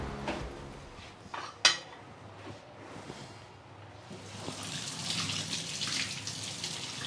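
Plates and utensils washed at a sink, with clinks and one sharp clatter early on, then a rising rush of tap water running steadily through the second half; no talking.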